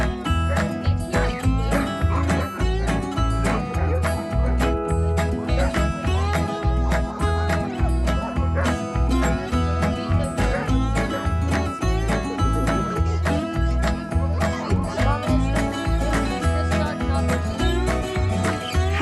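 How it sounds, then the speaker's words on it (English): Excited team of sled dogs from a National Park Service working dog kennel in Alaska barking nonstop, with dense overlapping yips, barks and whines close by. "to see the National Park Service's only working dog team"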